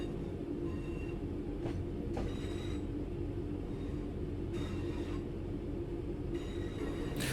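A train in Train Sim World 5 rolls along the rails with a steady low rumble, soft rhythmic clicks and occasional faint squeals, heard from inside the cab at a constant level.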